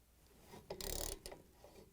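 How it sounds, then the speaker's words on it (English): A 19mm socket wrench turns the rotor bolt on a Samsung washing machine motor, giving a short burst of close metallic ratcheting and grinding that swells for about half a second, with faint mechanical clicks around it. "install the 19mm socket wrench onto it and turn the bolt counterclockwise"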